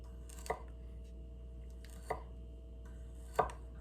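Three separate, unhurried knife strikes of a Takamura R2/SG2 170 mm santoku cutting hard vegetables on a cutting board, each a short, close chop over a quiet, faintly humming room.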